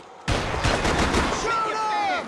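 Gunfire in the Max Payne video game: a sudden burst of shots breaks in after a brief quiet, rattling loudly for about a second before a ringing tail fades under faint game voices.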